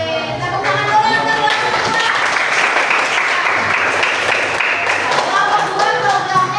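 A classroom group claps for a student team after a coding lesson, a brisk burst of applause that swells in the middle and carries on steadily, with some background voices mixed in.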